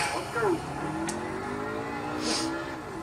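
Simulated NASCAR race car engines from the Xbox One game Nascar Heat 3 drone at moderate volume, with pitch sweeps as cars rev and pass, under someone speaking.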